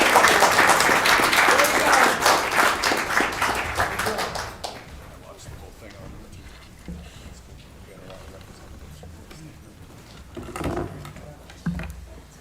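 A city council meeting bursts into loud, dense applause and clapping for Skills USA winners, fading after a few seconds into quieter room noise, shuffling, and a few scattered claps.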